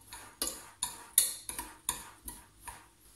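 A spoon taps and clinks rhythmically against a bowl while sugar, vanilla and cinnamon are mixed for no-bake cookies, about seven evenly spaced clinks, quiet and close, with no talking.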